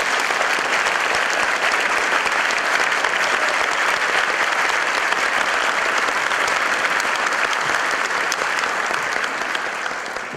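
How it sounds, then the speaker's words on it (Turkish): Sustained applause from a theatre audience at a stage play performance, dense steady clapping filling the hall from start to finish with no voices over it. "sizden büyük bir alkış istiyorum"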